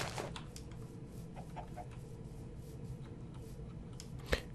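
Chickens cluck in Minecraft, a scattered series of short, fairly faint clucks over a low steady background, with one sharper tap near the end.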